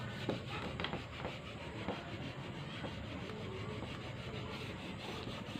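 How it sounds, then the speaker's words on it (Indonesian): A cotton cloth rubs steadily over a metal door handle, giving a continuous close-up scrubbing hiss with soft repeated strokes at an even level throughout, no voices. "Kita gosok lagi. Kita gosok lagi. Gosok aja terus sampai mengkilat lagi seperti baru."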